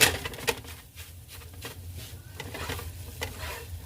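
Eggs for scrambled eggs sizzle softly in a hot pan while they are stirred and pushed around. A few light scrapes sound close by over the steady low frying noise.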